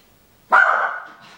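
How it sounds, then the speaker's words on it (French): A single loud, close dog bark indoors: one sharp yelp that tails off into a brief whine, with quiet before it. "je savais que t'allais aboyer"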